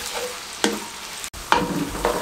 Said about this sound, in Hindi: ऑयल गर्म होने के बाद 1 अदद प्याज चॉप किया हुआ दरमियाने साइज का शामिल कर देंगे और प्याज को ब्राउन होने के लिए छोड़ देंगे